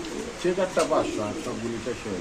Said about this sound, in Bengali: এখানে আছে চার পিস কবুতর